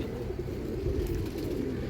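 Close, constant cooing rises from Rampuri pigeons kept at a large pigeon farm in Latur, Maharashtra. Deep, burbling calls overlap without a break, and no speech is heard.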